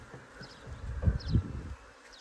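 Honey bees buzz nearby outdoors, a soft continuous drone with a few louder low thumps and brief flyby whines close to the microphone.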